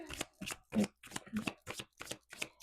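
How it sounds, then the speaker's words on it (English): Rapid bursts of tarot cards being shuffled, about seven quick riffles in a steady rhythm, close and crisp with no talking. "It's a goddess shuffling and dealing just to get those two cards out"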